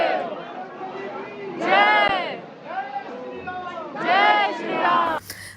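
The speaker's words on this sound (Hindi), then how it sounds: "बस जय श्री राम का नारा लगाते हुए, जयकारा लगाते हुए हम लोग ऊपर पहुंच गए" A dense crowd of pilgrims chants Jai Shri Ram in unison. The chant swells loudly in two big surges over a constant background of crowd babble.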